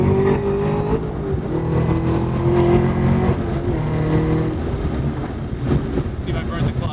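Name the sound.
Chevrolet Camaro ZL1 1LE manual car accelerating and quick shifting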